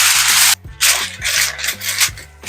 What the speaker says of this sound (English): And then I'm gonna cover the dish with aluminum foil,